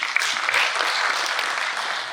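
An audience claps for about two seconds at the official release of the UBTEB May/June 2024 examination results. The applause is dense, steady and even throughout.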